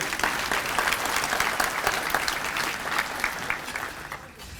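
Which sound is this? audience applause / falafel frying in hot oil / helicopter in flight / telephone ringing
audience applause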